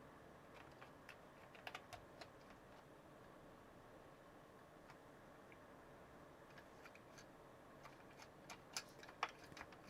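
Keys tapped on a grimy Commodore 64C computer keyboard under restoration with faulty keys and spacebar: faint, irregular clicks and light clacks, sparse at first and then clustering into quicker runs near the end.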